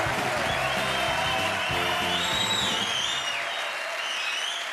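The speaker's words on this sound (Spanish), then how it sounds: "Un aplauso grande por él." An audience at a TV interview applauds Eduardo Inda with dense, sustained clapping that gradually thins toward the end, while a voice is heard beneath it.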